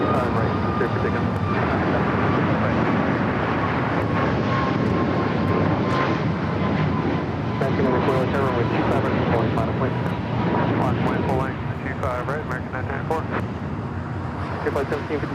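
A fixed-wing airliner takes off from runway 25 right at LAX with a loud, sustained engine roar. Distant road traffic blends in and voices talk over it.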